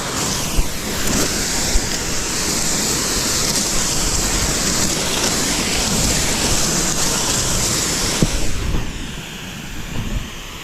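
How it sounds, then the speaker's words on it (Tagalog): Strong wind roars steadily and loudly with a hissing, gusty rush, easing slightly near the end. "yun nga na lumakas na yung hangin"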